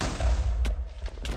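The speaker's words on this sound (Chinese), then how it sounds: "我们家也被炸了" Explosions in Minecraft go off as a pair of quick, dull booms over a low rumble, fairly faint and close together in a short burst.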